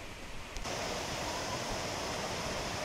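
Broad, steady rushing roar from a large, wide waterfall at Pha Tat, Thailand, close by and filling everything after a brief quieter start.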